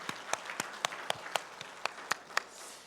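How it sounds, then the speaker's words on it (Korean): Faint, evenly spaced claps from a church congregation during a Sunday worship service, roughly a dozen crisp strikes in a steady rhythm with no voices over them. "영광의 박수 올려드리겠습니다."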